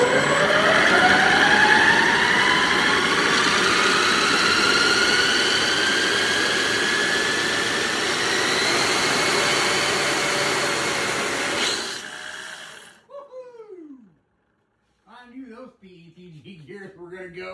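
A 3D-printed RC EDF turbine engine screams at full power, its loud whine climbing steadily in pitch before cutting off abruptly, followed by a short silence and brief voices.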